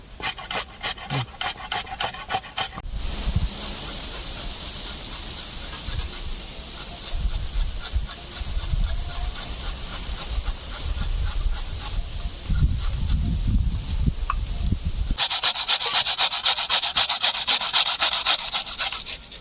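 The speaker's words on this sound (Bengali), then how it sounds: "আমি এখন পেঁয়াজটা ঘষে নিচ্ছি" An onion is grated by hand with a rapid, steady rasping scrape against a grater, close and loud, running almost without pause with brief shifts in rhythm.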